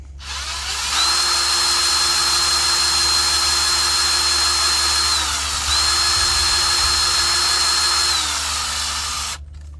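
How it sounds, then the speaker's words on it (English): A power drill whines steadily as it bores through about an inch of metal with a dedicated bit, its pitch dipping briefly midway and again near the end before stopping. "If I'm going to be drilling an inch of metal on 2 different spots"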